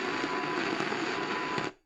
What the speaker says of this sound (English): that static is not fun to listen to